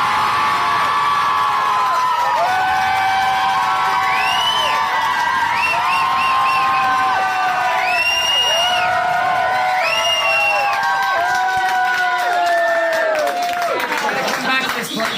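A room crowd at a leaving speech cheers, whoops and shouts loudly, with scattered clapping mixed into a dense, continuous wall of voices.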